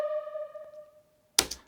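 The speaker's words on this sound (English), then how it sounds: "I've got these ping sounds, and they're basically doubling what the percussion's doing." A fast ping accent from a trailer music sample pack: a single bright sustained metallic tone rings out and fades over about a second, followed by a short sharp burst of clicks at the end, heard alone with no talking.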